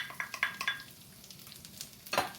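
Onion dropped into a pan of fideo pasta browning over medium-high heat, a light sizzle with a few quick stirring scrapes and clinks, close and moderately quiet, no voices.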